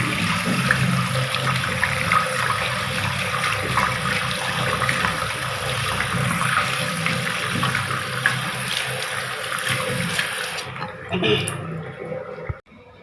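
Soaked clothes are washed under running water, a loud, continuous splashing gush that cuts off near the end, followed by a few faint drips and a clunk.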